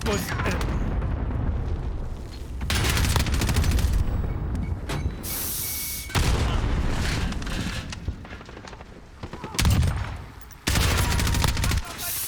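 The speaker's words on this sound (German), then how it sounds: "Oh, ich hab auf meinen eigenen Mann geschossen." Rapid bursts of gunfire and mechanical clatter in the video game Call of Duty: Modern Warfare, loud and dense, repeating in several volleys with short gaps between them. Someone talks over the shooting.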